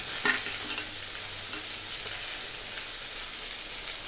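Onion fries in hot oil with mustard seeds, cumin and crushed garlic in a pan, giving a steady dense sizzle close by. A brief clatter sounds near the start as the onion goes in, and no voices are heard.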